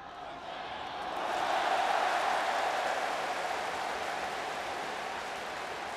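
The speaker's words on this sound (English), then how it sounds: "And the crowd has been lively, loud, raucous, and fun all night long." A crowd at a night baseball game in Tokyo, Japan against Chinese Taipei, roars and cheers in a steady, loud swell that builds and then holds, with a commentator's voice faint beneath.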